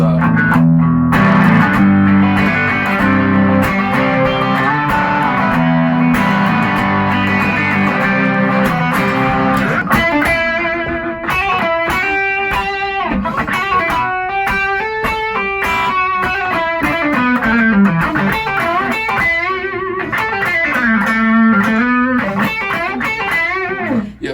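A heavily distorted Les Paul electric guitar, front pickup, plays thick sustained chords, then shifts into a busier, bending lead line over a steady full-band backing, loud throughout.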